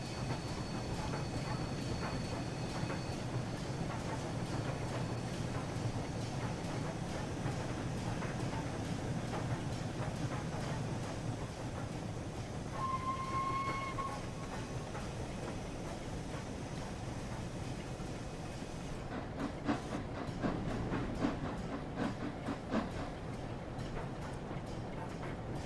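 Flying Scotsman 60103 steam locomotive rolling slowly on rails with steady rumbling and clanking train noise, a brief squeal of braking partway through and a rhythmic clickety-clack toward the end.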